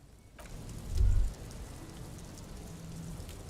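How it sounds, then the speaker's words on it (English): Steady rain falls in the video game Disco Elysium, a soft continuous patter with a brief low thump partway through and no talking. "Stuck in the rain in a traffic jam, man."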